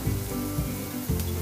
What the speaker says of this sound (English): Add 1 bowl of onion finely chopped and saute till it starts to turn golden brown in color